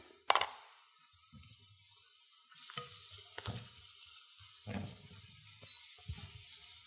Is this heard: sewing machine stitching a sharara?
no